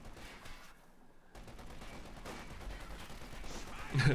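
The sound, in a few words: twin .50 caliber machine guns firing in a video game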